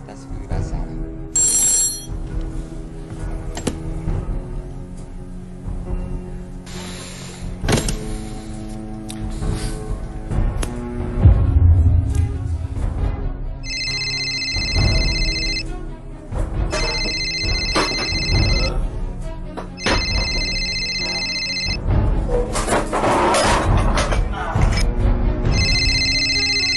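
An old-style telephone bell rings in repeated bursts with gaps between them, loud and close, over a steady bed of game music and sound effects during a GSC Sztárliga Mini Challenge game round.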